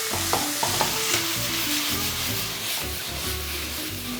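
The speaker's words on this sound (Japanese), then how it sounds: "玉ねぎとかが程よくしんなりとするまで炒めていきます" Onions, garlic and ginger stir-frying in a pan for a spicy Chinese-style ground pork and tofu dish: a steady loud sizzle with repeated scraping spatula strokes throughout, with no voices.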